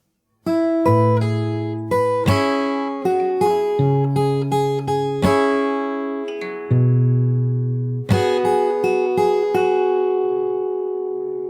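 Fingerstyle guitar plays a song at a slow pace, plucked notes ringing out clearly with bass and melody lines, a brief pause midway before the phrase resumes, loud and close with no voices.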